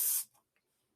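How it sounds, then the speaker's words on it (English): Heat protectant spray misted onto a hair topper: one short, close, hissing burst lasting about a quarter second, followed by near silence. "So I'm just going to spray this down"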